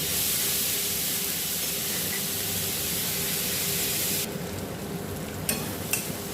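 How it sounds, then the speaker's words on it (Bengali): Chopped onions frying in a pan for a chichinga (snake gourd) dish give a steady, loud sizzle that fades to a quieter hiss near the end, broken by a couple of light clinks. "এটা দিয়ে পেঁয়াজটা একটু একটু নরম নরম করবো"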